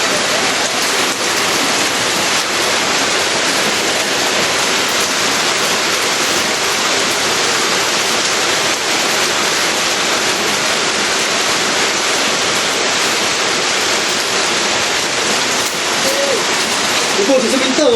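Heavy rain pours steadily and loudly over an outdoor bathroom build site, a dense unbroken hiss of drops on surfaces lasting throughout.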